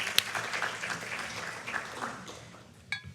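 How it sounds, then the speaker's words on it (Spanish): A congress audience at a national One Health conference applauds briefly, a soft, fairly distant patter of clapping that fades out within a few seconds. "También un aplauso para él."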